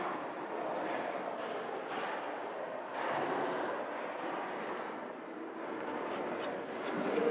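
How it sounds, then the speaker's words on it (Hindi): Pen or pencil writing a Hindi letter by hand on paper, a continuous close scratching and rustling of strokes running steadily throughout without pauses. "यहाँ ऊपर लिखती हूँ मैं"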